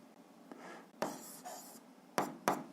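Chalk or pen writing out a physics formula for height, a run of scratchy strokes with a couple of sharper taps near the end, close and moderately quiet, with no voices.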